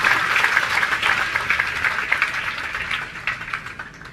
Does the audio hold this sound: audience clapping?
yes